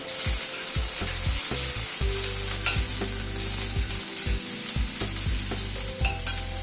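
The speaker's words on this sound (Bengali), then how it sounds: "নুন হলুদ দিয়ে উচ্ছেটাকে ভেজে নিচ্ছি" Bitter gourd with salt and turmeric frying in hot oil in a wok, a loud continuous sizzle close up, broken by rhythmic scraping and tapping strokes of a spatula stirring the pieces.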